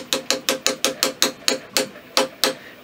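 Brass rod tapping a rifle sight into its dovetail on a Kibler Colonial Long Rifle kit, about a dozen sharp, close metallic taps in a steady rhythm with a slight pause near the end.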